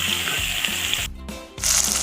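Mustard, garlic and chili paste hit a hot pan with a loud, steady sizzle that dips briefly and then flares up again.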